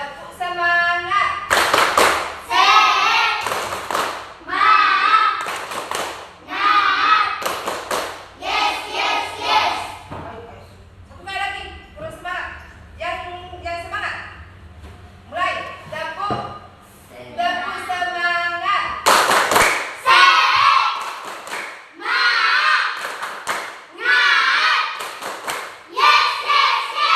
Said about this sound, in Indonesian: Nah sekarang kita tepuk semangat.